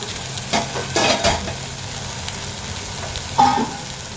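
Jute leaves fry in a pan while being stirred, giving a steady close sizzle broken by a few scraping stirs, with a louder scrape near the end.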